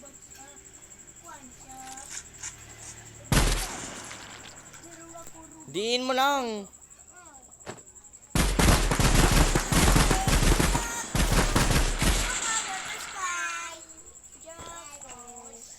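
Gunfire in the Minecraft video game, several loud bursts of rapid shots in clusters, interleaved with a child's chatter and squeaky game sound effects.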